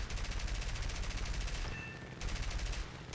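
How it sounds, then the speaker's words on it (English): Machine-gun fire from 13mm guns on a BF 109 G-6 raking a Spitfire Mark 18 in the War Thunder combat flight game, a dense continuous rattle of rapid shots that pauses briefly midway, then resumes over engine roar. "I demonstrate exactly how effective the 13mm are at ripping a Spitfire to pieces"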